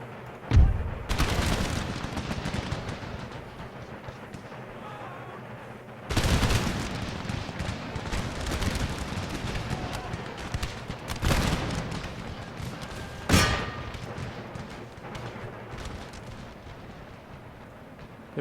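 Musket volleys crack out in the Empire: Total War strategy game, three sharp massed bursts spaced several seconds apart, each trailing into a rumbling battlefield din, with no voice over them.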